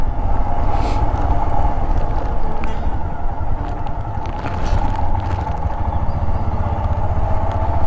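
A motorcycle runs along a mountain road in the rain on the way to Mustang, Nepal, a steady close engine drone under constant wind and road rumble throughout.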